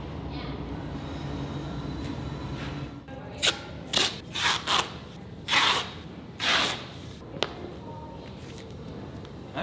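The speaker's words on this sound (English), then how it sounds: "Is that another train?" A train passes outside a backstage area at a local live music venue, a steady low rumble for a few seconds followed by a run of loud hissing, clattering bursts that come and go.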